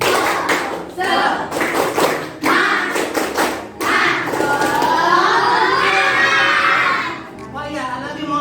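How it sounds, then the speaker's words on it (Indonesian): A grade 6 class of children performs a tepuk semangat clapping chant in a classroom, with rhythmic bursts of clapping and shouted chanting voices in short phrases, ending in a longer sung-out cheer. "kita tepuk semangat dulu ya"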